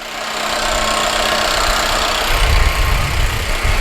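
Flooded 2013 Hyundai Sonata engine running rough and bucking, a steady loud mid-pitched idle with uneven low thumps and surging, plus cooling fans whirring, no talk.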